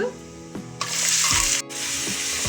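Three thinly sliced onions and cumin seeds fry in hot oil, giving a loud, close, steady sizzle with a few soft stirring scrapes.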